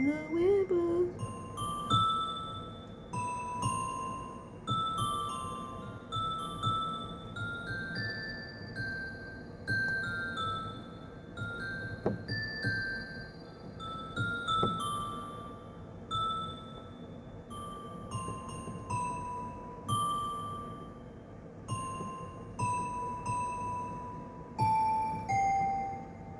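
A synthesizer's 'Crystal' preset plays bright, bell-like chime notes in a steady scattered sequence, ringing over a soft sustained pad like wind chimes stirred by a breeze, with no voices.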